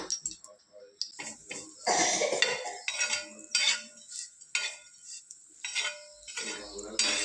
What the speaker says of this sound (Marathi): आता तुपामध्ये ओट्स भाजून घेऊया चांगला